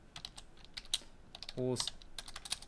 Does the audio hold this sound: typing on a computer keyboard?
yes